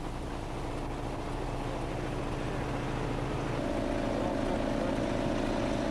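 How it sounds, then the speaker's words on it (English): Pump on road repair equipment circulates road sealant through its lines, a steady droning mechanical hum that shifts to a fuller, louder tone partway through, with no talk. "The next step is to begin pumping the sealant through the system."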